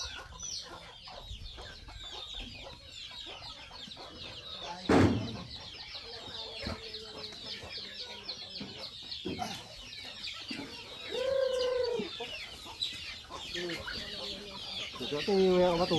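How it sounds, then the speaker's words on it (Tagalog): Chickens cluck near a farmyard, with a louder squawk around five seconds and a rising cackle later, over steady rustle and ambient background noise. "Oh, manok."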